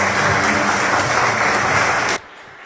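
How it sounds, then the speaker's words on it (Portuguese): Church congregation clapping loudly and together for about two seconds before the applause cuts off abruptly. "dá um aplauso bem forte para o Senhor"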